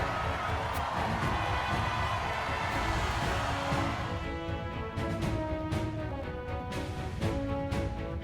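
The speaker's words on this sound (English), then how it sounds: "A round of applause for our masked victor." Crowd applause and cheering from the video game Triangle Strategy, a loud, dense roar of clapping and shouts for the first four seconds that then thins under game music.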